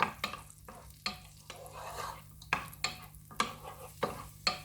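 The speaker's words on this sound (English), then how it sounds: "I'm going to add my onion so that we can get the onion nicely sauteed in the butter" Onion sautéing gently over low heat in melted butter for an Italian tomato risotto, with repeated spoon strokes and scrapes against the pan over a quiet, steady sizzle, close and with no one talking.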